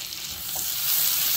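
Onion frying in oil in a pan for chicken mandi, giving a steady close sizzle with a faint stir partway through that grows slightly louder toward the end, with no talking.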